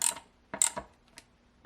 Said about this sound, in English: I'm using a ratchet to snug them up good.